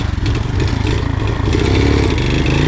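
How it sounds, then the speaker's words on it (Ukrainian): An Alfa Romeo engine runs after repair of a seized motor, a loud, steady mid-pitched drone with some rough clatter, close and continuous with no talk. "Альфа на ходу полностью"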